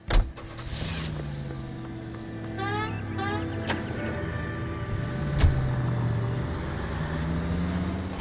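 A car in the L.A. Noire video game: a door thuds shut, then a low engine idles and rises in pitch, with a whining mechanical sweep and a few clicks along the way.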